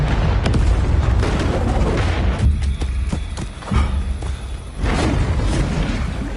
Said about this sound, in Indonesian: Johnny telah mencuri granat milik Robico dan meledakkannya saat itu